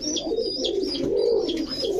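Pigeons kept for sale, fancy breeds, give soft repeated throaty coos, close and continuous, with no talking over them.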